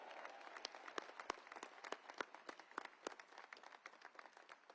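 A small crowd of guests applauds at a commencement ceremony, sparse, distinct claps spread unevenly and heard faintly from a distance, with no voices over them.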